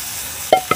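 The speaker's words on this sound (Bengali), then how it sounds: "ভালো করে একটু নেড়ে চেড়ে নিতে হবে" Soaked rice being stirred in a pan for soybean khichuri gives two quick scraping, sizzling strokes near the end of a brief quiet moment.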